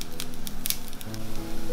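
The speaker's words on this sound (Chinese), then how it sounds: "锅里不用放油，用小火慢煎" Teriyaki seaweed rice ball pan-frying in a dry pan over low heat, giving a soft, steady sizzle with faint crackles and brief spits, close by with no talking.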